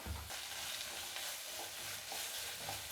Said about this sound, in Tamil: முதல்ல இது 3த்தையும் நல்லா வதக்கிக்கலாம்.